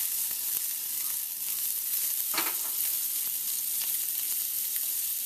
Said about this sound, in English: Just going to saute them briefly just to get them hot.